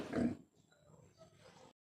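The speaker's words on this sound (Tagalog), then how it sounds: "Uy, kumusta ka mo mga baboy?" Pigs grunt in their pen on a farm during morning cleaning, a loud close grunt at the start followed by softer low snorts and shuffling.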